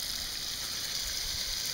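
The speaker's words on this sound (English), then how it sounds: "And obviously this is pretty heavy rainfall." Heavy rain falls on a four-foot cedar rain bench, a dense and steady hiss of water hitting the wood with no break or change across the short stretch.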